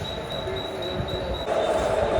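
A train bound for Kalyan runs at a foggy railway station with a steady rumble. A thin, high wheel squeal sounds throughout, and the noise grows slightly louder near the end.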